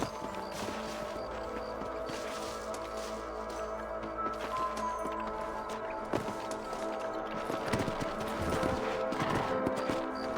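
Hooves clip-clop steadily over a busy ambient background with a low hum, several horses moving at a walk, moderately close, in the video game Red Dead Redemption.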